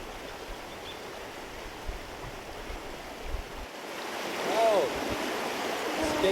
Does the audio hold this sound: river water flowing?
yes